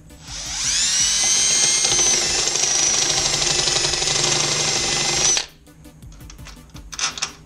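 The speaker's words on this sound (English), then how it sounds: "you may have to drill these holes out a little bigger." A high-pitched power drill whines steadily for about five seconds drilling out bolt holes during a handlebar install on a Honda Grom, then stops, leaving faint clicks and handling noises.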